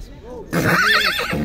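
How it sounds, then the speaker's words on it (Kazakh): A horse neighs loudly and close at a livestock horse market in Chuy, Sokuluk, with a long shaky whinny under nearby voices and market noise. "Мұндағы бір жерде қашқа түстегі жылқы келіп қалып тұр."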